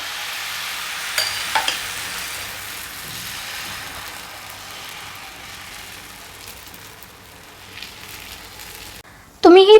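Besan poli frying in oil on a nonstick pan gives a soft, even sizzle through most of the stretch, fairly faint and steady, before a voice breaks in briefly at the end.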